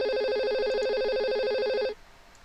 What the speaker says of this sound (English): Where is that ringing? How do I answer that?